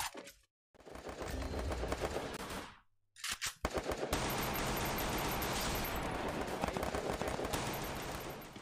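Rapid machine gun bursts in the mobile shooter Free Fire crackle loudly in dense strings, broken by a couple of short silent gaps before a long sustained volley.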